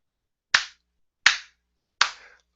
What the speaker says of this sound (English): Golf clap, Stephen.